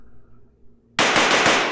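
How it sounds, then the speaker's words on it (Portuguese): A solar system blows up in the horror game Among Us.EXE: after a second of near silence, a sudden loud, close roar erupts and keeps crackling and popping like a barrage of firecrackers until the end. "Explodindo o sistema solar."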